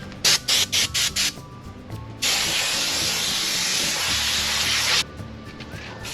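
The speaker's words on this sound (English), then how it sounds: "One of the things that I like about the 3M Headliner spray as opposed to the Super 77 is the spray pattern" 3M Headliner spray adhesive sprays from an aerosol can in one steady, loud hiss lasting about three seconds, preceded by a run of short bursts and followed by quieter handling noise, with no talking.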